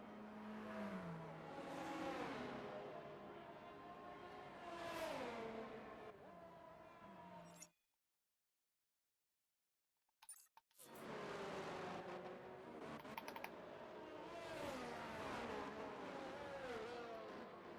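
A race car engine in a racing game at the Singapore circuit whines and shifts pitch as the car enters the pits, cutting out into a few seconds of silence before returning.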